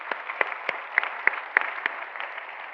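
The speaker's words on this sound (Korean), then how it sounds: "우리 학생들에게 크게 한번 박수를 부탁드리겠습니다" A congregation at a March 1st independence movement memorial service and reenactment in Daegu applauds students, a dense wash of clapping punctuated by a few sharp, louder claps at roughly regular intervals.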